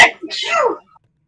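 A single sharp human sneeze bursts out close and loud, an intake then a quick explosive release, followed by silence.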